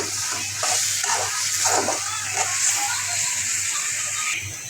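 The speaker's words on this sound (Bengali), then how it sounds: "এবার জল দিয়ে লাউ দিয়ে দিব।" Water pours steadily into a pan of fried bottle gourd and prawn curry, a continuous splashing gush close by that cuts off near the end.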